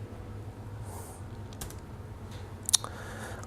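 A computer keyboard is tapped while coding, giving a few quiet, scattered key clicks and one brief cluster of sharper presses over a faint room hum.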